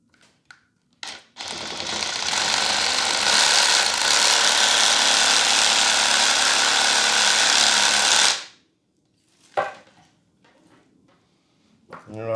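A rotary tool with a pruning bit grinds into wet wood on a trident maple bonsai grown root over rock, a loud harsh buzzing that runs about seven seconds and stops abruptly, followed by a few scattered knocks and handling sounds.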